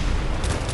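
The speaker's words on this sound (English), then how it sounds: "What is that explosion? It's an exploding barrel, man." A single dense blast from an exploding barrel in a zombies video game, filling the short moment with a loud, broad rumble and no talk.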